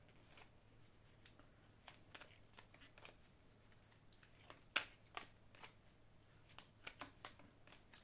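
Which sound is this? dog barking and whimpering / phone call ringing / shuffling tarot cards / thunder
shuffling tarot cards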